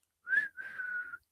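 A person whistles a short two-part tune, a bright rising note followed by a longer sustained tone, clear and close with no talking.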